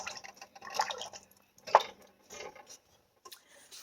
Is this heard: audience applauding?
no